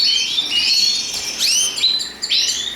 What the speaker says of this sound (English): It's a really nice bird, guys.